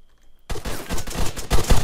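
A rapid volley of gunfire from several guns firing together as a welcome salute in the Arma 3 Altis Life video game, bursting loudly out of silence and rattling on in dense overlapping shots.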